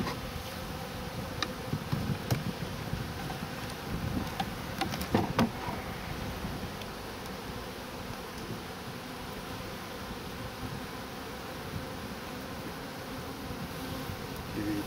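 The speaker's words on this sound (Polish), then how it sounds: "Pokaż Krzysiu, jak pszczółki pracują tutaj." Honeybees working at a beehive in a Polish apiary, a steady dense buzzing drone filling the whole stretch, with individual bees flying close past now and then and a few light ticks and rustles.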